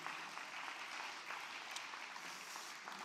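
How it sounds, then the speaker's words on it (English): Audience applause for a speaker at a labor-markets event, a steady, fairly faint wash of many hands clapping that holds evenly for the full three seconds with no voices. "So can you give Isaac another round of applause?"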